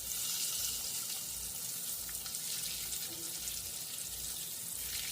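Flour-coated green tomatoes fry in a pan with a soft, steady hiss and crackle of hot oil, faint and continuous, with no talk over it.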